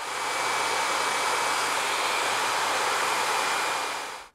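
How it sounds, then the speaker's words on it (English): A blow dryer runs at full power drying styled fine curls, a loud, steady, close airy whoosh with a constant hum that holds unbroken for several seconds before cutting off abruptly. "I'm now going to pass the blow dryer over to Jennifer"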